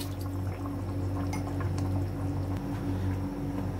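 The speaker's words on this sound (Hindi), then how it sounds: "तो मैं तकरीबन डेढ़ गिलास पानी डाल दूँगा।" Water pours and splashes into a pot of rice for chickpea pulao, with a few light clinks against the rim, steady and close over a low background hum.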